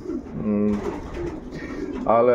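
An eight-year-old racing pigeon from 2016 gives short cooing calls near and clear, alternating with someone talking over and between the calls.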